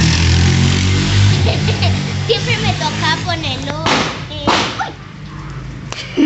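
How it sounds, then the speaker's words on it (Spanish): A motorcycle goes by near an outdoor campfire at night, a loud sharp report followed by engine noise and rattling, mixed with children's excited voices talking over it. "Fue una moto."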